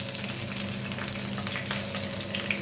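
Green chilies sizzle in hot oil in a pan, a steady, close crackling fry with fine popping and spatter, moderately quiet and without talk.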